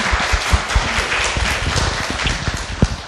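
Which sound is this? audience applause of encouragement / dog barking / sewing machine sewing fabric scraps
audience applause of encouragement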